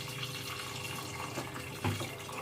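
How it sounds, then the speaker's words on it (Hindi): Water runs steadily into a pressure cooker holding mutton for a home recipe, a soft, continuous splashing pour heard up close at low volume. "इसमें इतना पानी डालें कि ये डूब जाए।"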